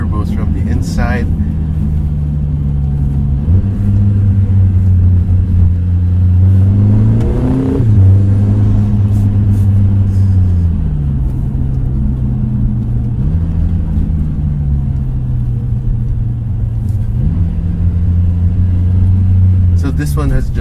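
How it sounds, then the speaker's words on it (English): From the cabin of a 2024 Lotus Emira First Edition, its turbocharged engine with an 8-speed dual-clutch gearbox drones loudly and steadily, rising in pitch and dropping back several times as the gears shift. "Hear the turbos from the inside."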